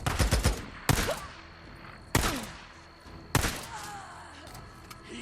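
Gunfire in Days Gone during a fight with the Rippers: a quick rattle of several shots opens, followed by three loud, echoing single gunshots spaced about a second apart, with no talk.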